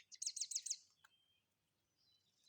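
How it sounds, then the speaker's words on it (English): A small bird sings a quick run of bright, repeated chirping notes, then goes quiet with a faint call near the end, heard alone outdoors. "Listen to the birds."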